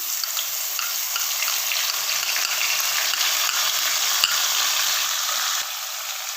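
Steady crackling sizzle of garlic paste frying in hot oil, with faint scraping of stirring, no voices.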